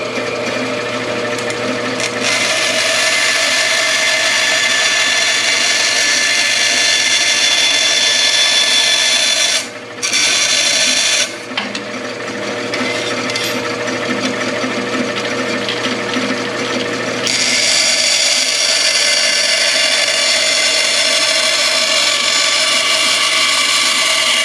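A bandsaw cutting metal in a home workshop, a loud continuous grinding whine that runs almost nonstop, dropping out briefly twice before resuming at full strength.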